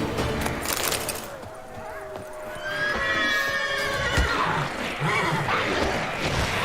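Horse in The Witcher 3 game whinnies loudly in a long rising and falling neigh amid hoof clip-clops and combat noise, with a voice speaking briefly.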